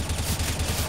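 An assault rifle fires a rapid burst of gunshots in a video game, the shots sounding dense and loud in a quick, rattling rhythm.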